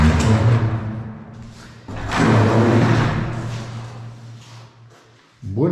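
A stuck, seized door of a mountain refuge is forced open with loud scraping and thudding strain, a heavy surge in the middle and a final knock at the end.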